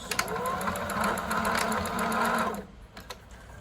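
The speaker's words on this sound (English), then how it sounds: "while it's still in the fabric, I'm gonna back stitch" A sewing machine back stitches through the fabric of a fitted face mask, running steadily and close for about two and a half seconds before stopping, followed by a few light handling clicks.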